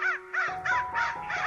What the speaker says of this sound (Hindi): एक जंगल में कौवे रहते थे।